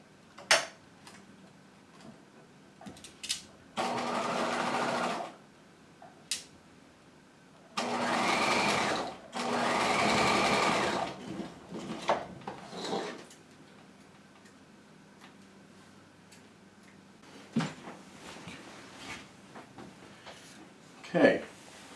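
A sewing machine stitches a jacket hem facing in several separate runs, each a few seconds of steady mechanical whirring, with quieter gaps, clicks and handling noises between them.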